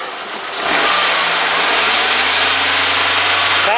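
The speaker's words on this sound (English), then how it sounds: "I'm going to have them rev it up." An Audi B6 1.8T engine with a replaced turbocharger idles low, then revs past 4,000 rpm and holds a loud, steady roar with a turbo whine above it, close by.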